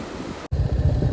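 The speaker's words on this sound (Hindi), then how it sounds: "सुहावनी हवा चल रही है" Steady wind blows across a forested mountain valley near Barot, a loud, roaring rush buffeting the microphone, broken by one instant dropout.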